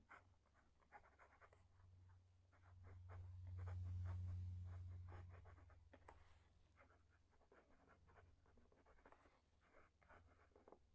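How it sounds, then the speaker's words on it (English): Nib of an extra fine fountain pen scratching across paper in short repeated strokes, quiet and close, with a low steady hum underneath and no voices. "So let's do the writing sample, because this is a really, really good little pen."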